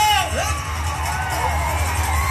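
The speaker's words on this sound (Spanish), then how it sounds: "Esto es el pinche grito." A group lets out a traditional Mexican grito: loud, close whooping yells and rising cries mixed with cheering voices, sustained for a couple of seconds.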